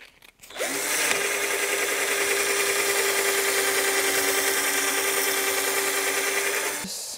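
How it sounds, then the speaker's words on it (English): A power sander smooths gessoed wood, giving a close, steady whirring drone that starts abruptly, holds for about six seconds and then stops. "Sanded nice and smooth."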